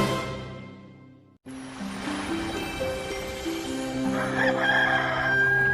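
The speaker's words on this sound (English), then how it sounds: "The roosters woke me at daybreak," Roosters crow with drawn-out, tonal calls, one fading away before another starts, over a steady outdoor background.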